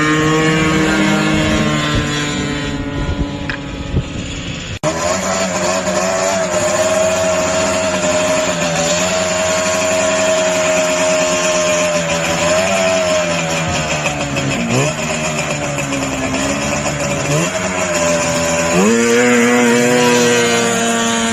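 Vintage snowmobiles grudge racing, their two-stroke engines wailing loud and close, pitch rising and dipping repeatedly as the sleds rev and shift, after a brief rougher burst at the start, with no talking.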